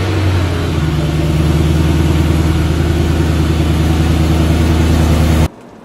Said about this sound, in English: So today we're driving a 2000 BMW 328i. This is a 3 Series, the E46 generation